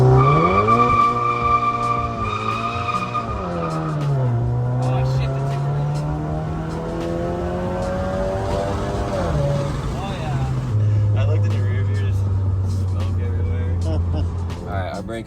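Volkswagen GTI with an upgraded turbo doing a launch-control start in a neighborhood, engine revving and rising in pitch through gear changes with tire squeal, loud and continuous, with people talking over it.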